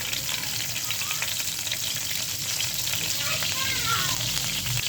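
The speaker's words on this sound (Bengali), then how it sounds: "তেলটা গরম হয়েছে, কাঁচামরিচ দিয়ে দেবো।" Green chilies frying in hot soybean oil in a frying pan, a steady, close, continuous sizzle with crackling spatters and faint stirring, no one speaking.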